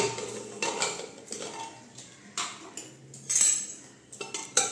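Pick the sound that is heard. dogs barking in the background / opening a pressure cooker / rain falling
opening a pressure cooker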